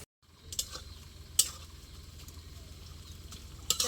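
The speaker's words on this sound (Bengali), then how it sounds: "এইভাবে কিন্তু একটু খন্তি দিয়ে নাড়াচাড়া দিতে হবে" A spatula stirs herbal hair oil bubbling in a pan, soft sizzling and frying hiss underneath with a few sharp metallic scrapes and taps against the pan, close and steady.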